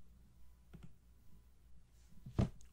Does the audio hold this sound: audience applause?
no